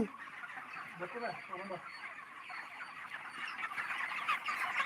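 Colored broiler chicks cheeping among a flock, with high, thin, overlapping peeps repeating constantly at moderate loudness.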